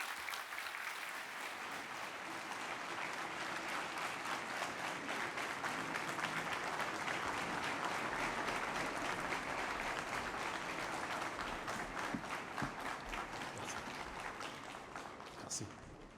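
An audience welcoming Benin's President Patrice Talon at a launch ceremony with warm applause: dense, sustained clapping from a large crowd that swells, holds steady, then slowly tapers off.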